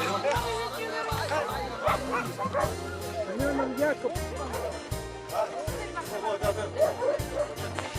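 Yakutian Laika dogs at a breed show bark repeatedly and loudly in a fast, uneven rhythm, with yips mixed in, over a steady background of crowd chatter and nearby voices.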